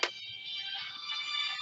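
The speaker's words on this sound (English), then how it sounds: "Another phone call." An incoming phone call ringtone plays as a steady, faint electronic tone lasting over a second in a quiet room, with no talk over it.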